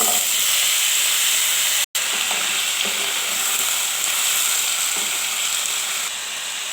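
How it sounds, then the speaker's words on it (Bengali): Chopped onion and vegetables hit hot oil in a loud, close, steady sizzle with frying hiss and occasional stirring scrapes, broken by one momentary dropout, no talking over it. "তেলটা গরম হয়ে গেছে দিয়ে দিব পেঁয়াজ কুচি দিয়ে দিব সবজি"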